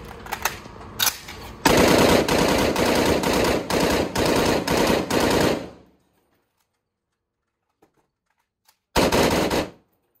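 A CW39 rifle fired in an endurance test reaching about four thousand rounds: a loud, close, sustained automatic burst, pulsing in short surges, stops abruptly, and after several seconds of silence another short full-auto burst follows.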